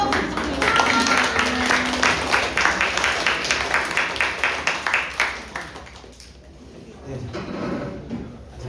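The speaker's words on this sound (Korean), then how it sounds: "나오실 때 큰 박수 부탁드립니다." Church congregation applauding a pastor coming forward at a Sunday service, sustained rhythmic clapping with sharp regular beats that fades out after about six seconds into quieter room sound.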